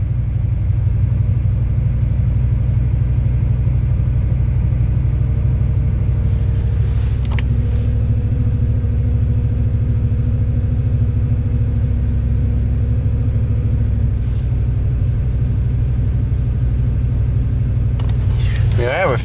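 A rebuilt Ford big block V8 idles steadily with a deep, constant low rumble, close by and continuous, with brief faint clicks and light mechanical noises over it and some talk.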